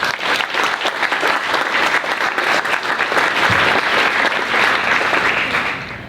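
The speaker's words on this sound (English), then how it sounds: "let's give another round of applause for all of our five finalists" An audience at a student startup competition finale gives a sustained round of applause for five finalists, the dense clapping swelling and holding steady before tapering off at the end.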